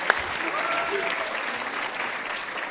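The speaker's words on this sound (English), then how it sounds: "A big clap for Morocco." Audience applause for the Moroccan delegation at a closing session, a dense steady clapping from a large room lasting a few seconds.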